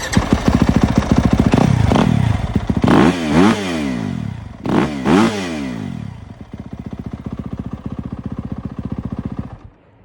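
A Yamaha YZ250FX dirt bike with its stock exhaust runs close by, revving up in sharp bursts with rising and falling engine pitch, then settling into a steady, loud idle-like burble alone.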